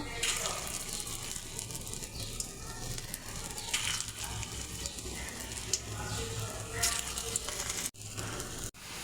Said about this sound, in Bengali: তেলটা গরম হয়ে গেছে, আমি এইভাবে ছোট ছোট করে বড়া ভেজে নেব